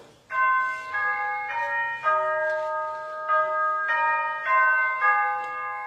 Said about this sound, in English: Why don't you go ring the doorbell again